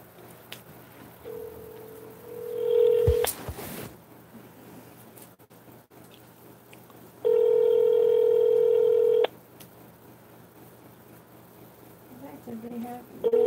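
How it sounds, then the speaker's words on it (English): Telephone dialing tones followed by a long steady ringback tone of a call being placed, loud and clear over low room background, with faint speech and noise around it. "Call that phone."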